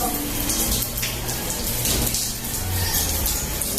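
Water pours steadily from a shower rigged up in a tree, pattering through the leaves like rain in a continuous, close, fairly loud hiss with no break.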